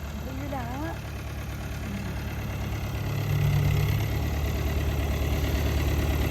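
A green New Holland 850 tractor, rated at 85 hp, idles with a steady low diesel rumble that grows slightly louder and heavier about halfway through, with a few faint higher sounds over it near the start.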